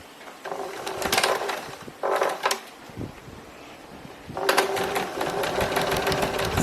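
A sewing machine stitches a dart in a pleated skirt, running in three bursts with brief pauses between them, close and steady.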